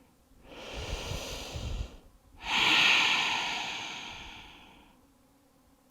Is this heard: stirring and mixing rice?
no